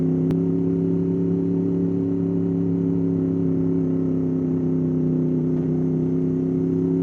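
A car passes on an early morning commute road, heard as a steady, loud engine and tyre whir that holds for several seconds with no talking.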